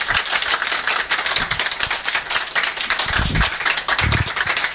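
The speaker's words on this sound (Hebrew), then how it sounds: "אני צריך להגיד כפיים." An audience applauds at a celebration marking the completion of a Talmud tractate, with loud, dense and steady clapping from many hands and no voices over it.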